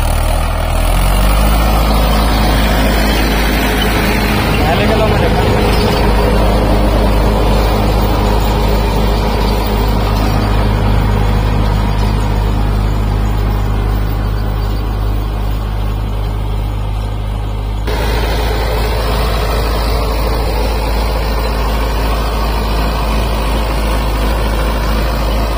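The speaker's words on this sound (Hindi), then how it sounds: "अब ट्रैक्टर जो है पहले के लो में चलेगा" Farm tractor fitted with small tyres for sugarcane tillage, moving in first low gear: a steady, loud, low engine drone runs without a break throughout, with no talking.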